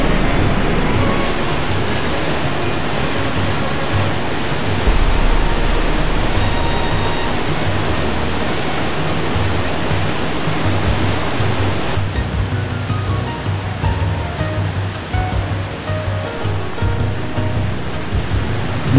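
A powerful waterfall roars loud and steady, a dense unbroken rush of falling water close by, heard from a footbridge with no voices over it.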